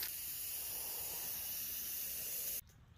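Black spray paint hisses steadily from an aerosol can onto a table, a loud continuous spray lasting a few seconds before cutting off abruptly into quiet.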